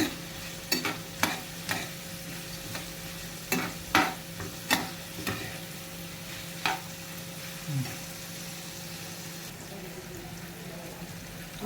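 Onions sauté in a pan with a soft, steady sizzle, broken by sharp scrapes and clinks from stirring at irregular intervals.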